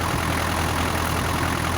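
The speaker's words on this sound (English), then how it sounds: "It has a high idle thing on it, so I figured I'd idle it up some." Diesel engine of an Isuzu NPR truck, started after sitting for 11 years, idling with the high idle raised: a loud, steady, dense rumble with constant level and no pauses.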